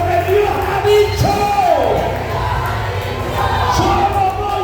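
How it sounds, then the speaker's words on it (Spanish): A church congregation erupts in a loud, sustained roar of shouting, yelling voices and applause, with rising cries swelling over the dense crowd noise throughout. "Aplauda con violencia. Grita conmigo lo que Dios ha dicho."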